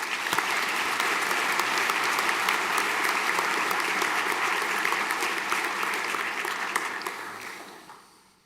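Sustained applause from an audience at a senior school prizegiving, steady and dense for most of the stretch before tapering off near the end.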